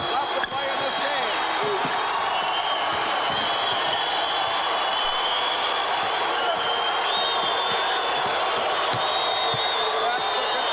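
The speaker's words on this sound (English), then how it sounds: "That's the Kentucky crowd" A Kentucky basketball crowd in a packed arena during the 1979 SEC Championship game against Tennessee gives off a steady roar of cheering, with shouts rising over it and a commentator talking throughout.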